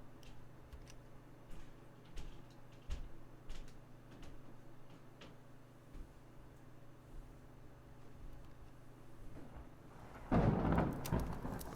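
Thunder rolls during a rainy thunderstorm with lightning, a faint rumble and patter underneath before a loud close crash of thunder bursts in near the end.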